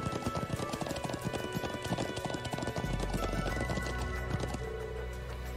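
Rapid clip-clop of horse hooves galloping in the video game Trails of Cold Steel II, with a horse whinnying, layered over background music and game ambience.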